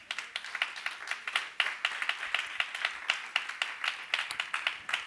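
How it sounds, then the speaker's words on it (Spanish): A church congregation claps together during a sermon, steady rhythmic hand claps in quick succession filling the room, fairly close and continuous. "¿Cuántos le dan palmas al Señor?"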